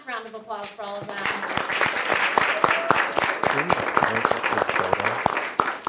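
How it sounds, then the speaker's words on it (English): Audience applause at a school board meeting, distinct individual claps building into steady clapping after a brief voice at the start. "One last round of applause for all of them."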